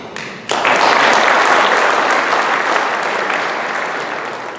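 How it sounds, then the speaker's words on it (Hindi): Thunderous applause from a large crowd in an auditorium at a public meeting, bursting in suddenly and holding loud and dense before tapering slightly. "और ये तालियों की गड़गड़ाहट"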